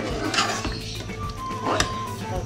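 Chicken is stir-fried over a full flame in a pan, with a metal spoon scraping and clinking against the pan in an irregular rhythm over a soft sizzle, close up.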